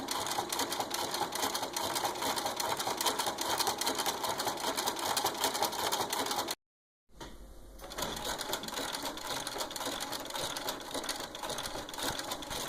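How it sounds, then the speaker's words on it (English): A sewing machine stitches a bar tack across a buttonhole, a loud, rapid, steady mechanical chatter close by that breaks off for a brief moment, then resumes at the same pace. "And now I'm going to push on the pedal, and it's going to do what's called a bar tack across the top, and then it's going to start to sew down."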